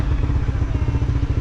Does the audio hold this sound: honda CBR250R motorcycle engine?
yes